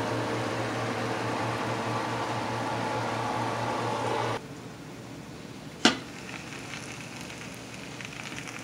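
Jamaican curry goat with peas sizzles and hisses as it dries out in a pot, a steady close frying hiss that suddenly drops to a quieter simmer, followed by one sharp knock.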